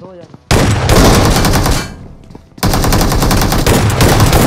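Shotgun fire in BGMI during a squad clutch fight: two long, loud stretches of dense, rapid gunfire separated by a brief quieter gap, close and harsh.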